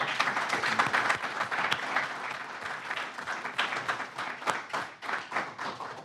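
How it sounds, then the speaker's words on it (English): A conference audience gives sustained applause for a panel of speakers, dense steady clapping from many hands across the room with no talking over it. "I would like to give a round of applause for our panelists today"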